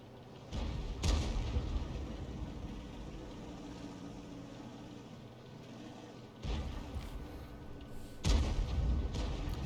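In a video game, an M53/M55 self-propelled gun fires artillery shells near water, producing several heavy booms spaced a few seconds apart over a continuous rumbling background.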